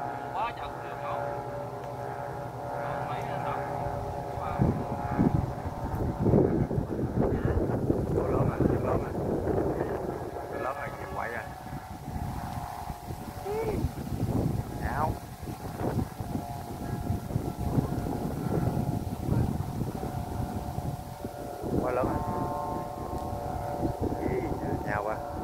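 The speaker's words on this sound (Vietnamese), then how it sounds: "Gió lớn rồi kìa" A strong north wind blows across an outdoor kite-flying spot, buffeting the microphone in gusty, rumbling bursts, while people talk over it throughout.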